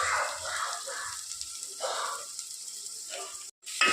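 Onion and grated coconut frying in oil for a chicken curry, a soft steady sizzle with faint crackles and a few clinks, fairly close and quiet.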